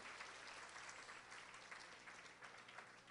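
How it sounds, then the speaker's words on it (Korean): A dense, continuous wash of audience applause in a church hall during a Korean family-themed event, steady throughout though recorded at low level. "박수 한번 보내세요."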